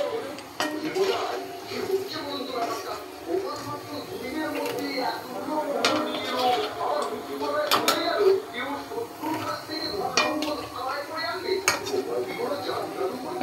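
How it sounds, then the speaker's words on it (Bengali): Fried rohu fish kofta being lifted out of a pan, heard as repeated metallic clinks and scrapes of a spatula against the cookware, continuous and close, with a voice talking over it. "আমাদের কোপ্তাটা ভাজা হয়ে গেছে, এবার আমরা নামায় দিচ্ছি।"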